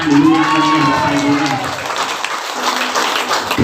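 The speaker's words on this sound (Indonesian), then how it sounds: "Tepuk tangan dulu yang meriah bapak ibu." An audience claps together at a community gathering in Pamekasan, a loud, dense burst of applause mixed with crowd noise and a voice over it, fading out toward the end.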